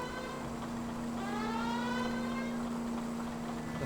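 A police car siren in L.A. Noire wails steadily under a constant engine hum, rising and falling in a smooth sweep at moderate loudness.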